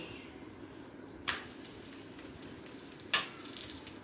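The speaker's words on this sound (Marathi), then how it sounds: "दोन्ही साईडने छान असा आपण पराठा छान असा तुपावर छान भाजून घेऊया" A laddu-stuffed paratha roasts in ghee on a hot pan with a soft, continuous sizzle, broken by two brief sharp clicks as it is turned or pressed.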